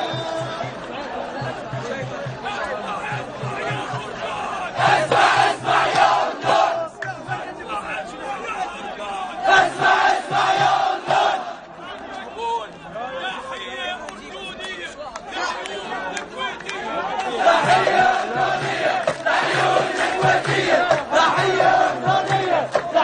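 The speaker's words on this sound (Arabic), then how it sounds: "نترك الجمهور مع هذا الفيديو اللي انتشر لجمهور الاردن" Jordanian football fans chant and roar as a large crowd, rising and falling in loud waves with rhythmic shouted bursts and general hubbub throughout.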